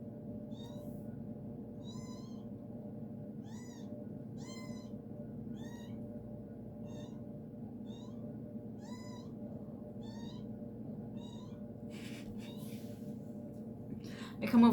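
A mother cat with her kittens meows repeatedly outdoors, a steady series of short, fairly clear calls over a constant low hum of background noise, with a louder bump right at the end.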